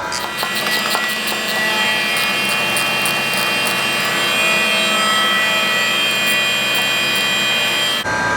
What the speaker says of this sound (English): you can go ahead and use a socket with the Allen socket on there, or you can use the Allen wrench, and you just want to snug these up